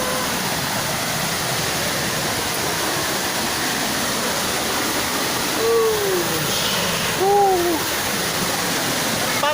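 Pangyan Falls waterfall: a loud, steady broadband rush of falling water fills the whole stretch, with a couple of brief gliding hoot-like tones rising above it late on.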